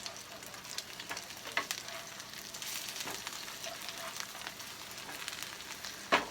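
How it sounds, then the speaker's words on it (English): Eggplant slices frying in oil in a pan, a soft steady sizzle with intermittent crackles and a few sharper pops, fairly quiet and without talk. "So here's the eggplant browning."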